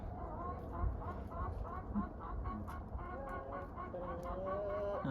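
A flock of hens with a young rooster clucks continuously in the background, a steady murmur of overlapping calls at low volume, with occasional sharper squawks.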